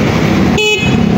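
A motorcycle horn gives one short, steady toot, tested after its wiring harness was replaced. It sounds over a constant background hum of engine and road noise.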